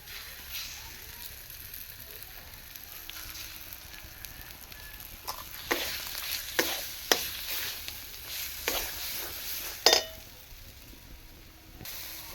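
Ground lentil paste fries in a pan with amchur and cumin powder while a utensil stirs and scrapes it. A soft sizzle runs underneath irregular clinks and scrapes, which grow busier partway through.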